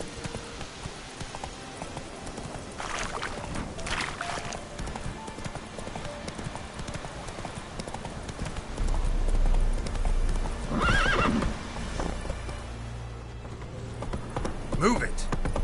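A horse gallops in The Witcher 3, fast rhythmic hoofbeats clopping continuously up close, with a loud neigh partway through and a rider's voice urging it on.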